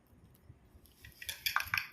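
Ceramic snack plates clink together as they are handled after shopping, a few light, bright taps building toward a cluster of sharper clinks near the end, close by and alone.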